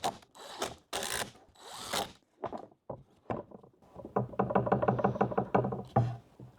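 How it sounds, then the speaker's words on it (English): Countersink bit in a drill boring into screw holes on a wooden slab-flattening jig, heard as a few short bursts, then a longer buzzing run, with knocks and handling noises between. "So I'm gonna grab my countersink bit, run it on these real quick, and hopefully get these screws to lay in flat."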